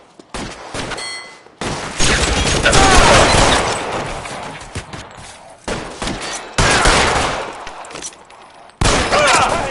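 Loud bursts of gunfire rattle through a shootout in L.A. Noire, heavy volleys separated by brief gaps, with shouted voices between exchanges.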